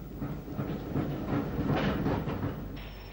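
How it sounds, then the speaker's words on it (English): A 1940s–50s Irish train rolls past Corrignagat Junction on the way to Sligo, a steady rumble with clickety-clack of wheels on rail joints and a faint hiss, continuous and fairly close throughout. "Moving on towards Sligo, the train passes Corrignagat Junction"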